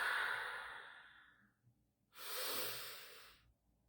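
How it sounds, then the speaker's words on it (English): Slow deep breaths in a breathwork class: one long fading exhale, a pause, then a second steady breath, soft and close with no speech. "just do some natural deep breathing"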